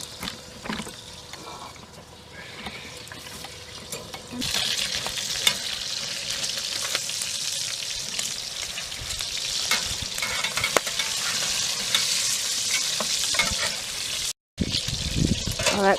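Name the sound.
bacon frying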